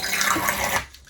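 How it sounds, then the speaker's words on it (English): Electric water dispenser pouring a small measured amount of water into a cup, a steady close trickle lasting under a second before stopping abruptly, with no voices. "it dispenses exactly 10 millilitres of water"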